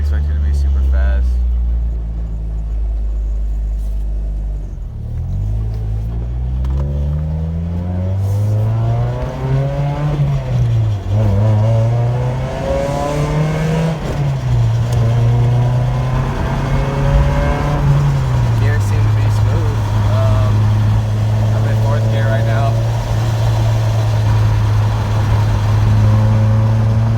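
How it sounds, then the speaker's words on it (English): An Acura RSX Type S with only an intake mod runs on a test drive, its engine note rising and falling through gear changes, loud and close inside the car, with talk heard over it. "we're just gonna go test that out real fast, see how the motor runs."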